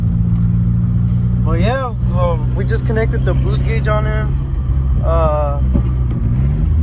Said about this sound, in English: It's just that idle that's fucking up on his car.